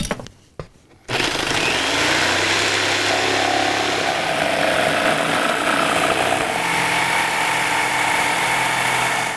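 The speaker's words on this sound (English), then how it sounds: "now we just cut it out with the jigsaw." Jigsaw cutting through wood for a shield dome, starting after a few brief knocks into a loud, continuous buzzing motor drone that holds steady until it stops.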